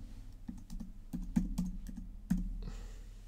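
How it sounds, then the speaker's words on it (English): Quick bursts of key clicks come from a computer keyboard sitting under a microphone on a Mac, irregular taps close up with a few louder strikes, and no speech. "Type in the word terminal."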